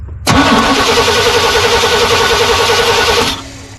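A 1987 Chevy small-block 350 TBI truck engine starting for the first time in 20 years: a short crank, then it catches and runs at a loud, steady, close idle for about three seconds before cutting off.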